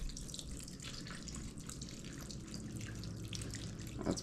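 Chicken broth poured into a cooking pan, a steady soft liquid trickle running evenly throughout, with a slightly louder splash near the end.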